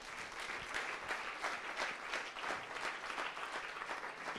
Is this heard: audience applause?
yes